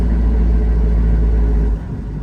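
A manual-transmission truck engine downshifting into second gear gives a deep, close rumble. The rumble holds steady, then eases and changes character as the gear drops.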